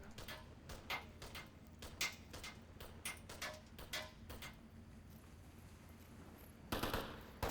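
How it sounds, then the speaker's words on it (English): Rapid bursts of gunfire shot downrange in the Onward VR shooter, sharp cracks in uneven volleys through the first five seconds, a lull, then another loud burst near the end. "William just shooting shots downrange"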